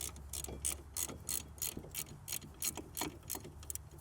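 A ratchet tightens a 14mm brake caliper bolt on a 2002 Lexus ES300, giving a rapid run of close, crisp pawl clicks in uneven bursts over a low background hum.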